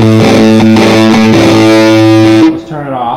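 Heavily fuzzed electric guitar through an Expandora Forbidden Fuzz pedal with its tone stack engaged, playing loud, thick sustained chords for about two and a half seconds before cutting to a quieter, shorter phrase.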